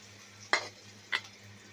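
Five-spice seeds hit hot oil for a tengra fish and vegetable curry, giving two short, close sizzling bursts about half a second apart over a quiet kitchen hum.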